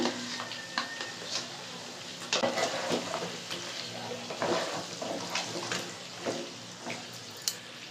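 Beaten sour yogurt being stirred into sizzling chicken for restaurant-style doi chicken, with continuous frying hiss and repeated spoon scrapes and clinks against the pan.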